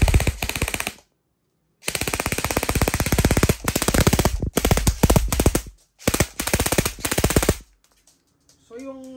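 An E&C 111 DY HK416 airsoft rifle fires full auto in several loud, rapid bursts separated by short pauses, close up, with a brief voice at the end.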